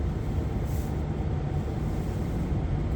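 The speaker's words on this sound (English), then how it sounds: "my heat is just now warmed up enough to start blasting." A car heater fan blows hard inside a moving car, a steady, dense rushing roar mixed with low road rumble and no other sound.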